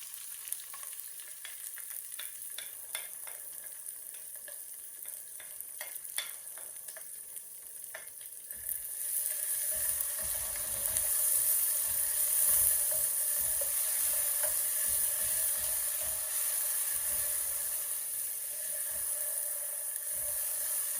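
Garlic, onion and green chili fry in hot oil in a pan, a close, continuous crackling sizzle with clicks of stirring, growing louder and denser partway through, with no talk over it.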